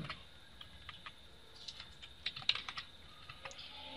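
Fingers typing on a computer keyboard while filling a table in MS Word 2003, soft irregular key clicks at close range, fairly quiet, with no voice over them.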